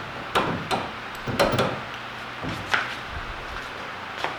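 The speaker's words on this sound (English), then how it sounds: "One husky hammer." A Husky hammer strikes a car suspension part on a wrecked Cobra, giving several sharp, loud metallic blows in an irregular rhythm at close range, with brief pauses between hits.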